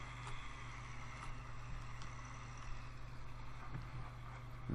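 Steady low drone of a Liaz ST180 tractor engine, around 185 horsepower, in the Farming Simulator 2013 video game, running continuously at an even level with faint wind-like noise on top.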